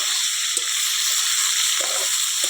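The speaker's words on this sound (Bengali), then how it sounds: "ভালো করে একটু ভেজে নেব" Beans, potato, eggplant and a whole tomato frying in a pan give off a steady, bright sizzle and hiss, with a few soft stirring clunks underneath.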